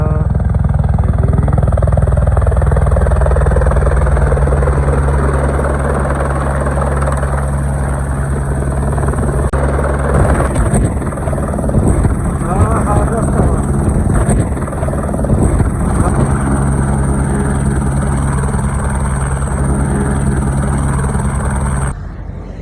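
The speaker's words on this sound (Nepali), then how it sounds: "अब उड्न लाग्यो हेलिकप्टर" A rescue helicopter lifts off from a snowy landing spot cleared in Manang village, its steady loud rotor thrum and engine whine continuous and close, with voices talking faintly underneath.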